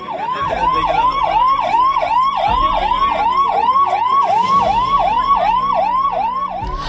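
Government ambulance siren wailing in a fast, regular repeating sweep, loud and close, running continuously over a low rumble of engine and traffic.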